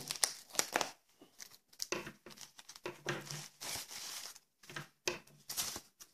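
Close, crinkly rustling of plastic packaging being unwrapped from a ceiling light switch with a motion sensor, in irregular bursts with brief pauses.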